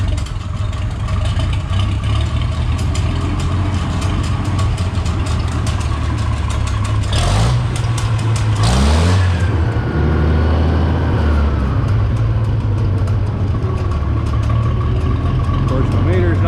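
Engine of a manual-transmission vehicle in neutral running at a steady loud idle with a brief rev swell midway, then settling back to its low rumble; someone talks over it.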